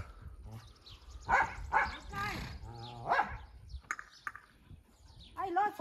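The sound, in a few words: rabid jackal-like dog barking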